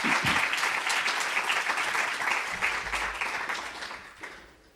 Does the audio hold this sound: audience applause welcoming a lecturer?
yes